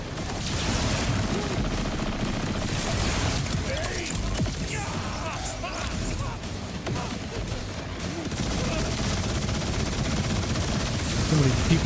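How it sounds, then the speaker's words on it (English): Dense, continuous gunfire and rocket launches in the looter-shooter game Borderlands 4, sustained automatic bursts and explosive thuds layered throughout, loud and cluttered, with a player's voice talking intermittently over the chaos. "people shooting rockets"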